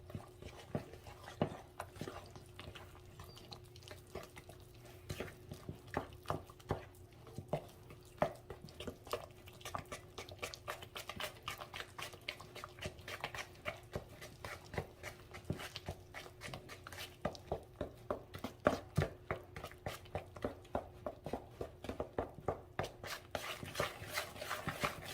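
Buttermilk being stirred into a dessert batter for a holiday treat, a steady run of soft repeated taps and wet scrapes from the utensil against the bowl, faint and continuous throughout.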